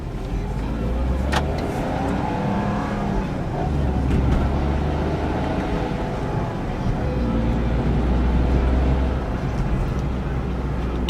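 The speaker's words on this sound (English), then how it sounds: "Now when I start accelerating, you'll see the shift pause that I mentioned earlier in the video." A 2009 Smart Fortwo Passion coupe accelerates from inside the cabin, its small engine droning steadily with a brief dip in pull as the automated gearbox pauses between shifts, continuous and fairly loud throughout.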